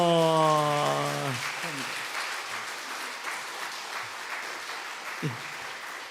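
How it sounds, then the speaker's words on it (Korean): A Korean church congregation applauds a group of six teachers at a Sunday afternoon service, steady crowd clapping that follows a sung or spoken tonal phrase at the start, with a few louder claps standing out. "박수 크게 쳐주세요"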